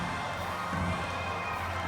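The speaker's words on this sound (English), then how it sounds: "to the roar of this huge crowd here this evening." A huge stadium crowd roars and cheers as the cauldron is lit at the Samoa 2019 Pacific Games opening ceremony in Apia, a dense, steady wash of sound.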